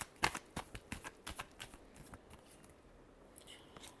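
Tarot cards being shuffled by hand: a quick run of crisp, papery riffles and taps, close and fairly quiet, with the strokes thinning out toward the end and no talk.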